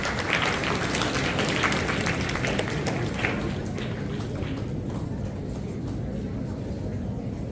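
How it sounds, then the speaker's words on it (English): Prize Day 2022 audience gives a round of applause for prize winners: a full, even wash of many hands clapping that starts strong and gradually softens over several seconds. "Can we have a huge round of applause for all of them once more?"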